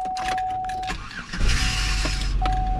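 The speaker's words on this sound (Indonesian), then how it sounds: "Aku mau nyoba nyalain mobil kita, guys." A car engine cranking and catching during a Texas snowstorm in 2021, a steady warning chime first, then the motor turning over and settling into a close, rumbling idle.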